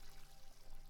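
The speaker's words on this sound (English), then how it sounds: "Turn on the faucets and watch as it slowly fills with water." Water gushes steadily from faucets in the video game Angels with Scaly Wings, a continuous close pour that fills a basin, running alone without pause for about a second.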